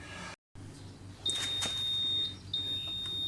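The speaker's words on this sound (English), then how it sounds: "So if you leave the door open, there's an alarm." A dry ageing cabinet's door-open alarm sounds as a steady high-pitched electronic tone, briefly interrupted then resuming, over low appliance hum and light handling noises.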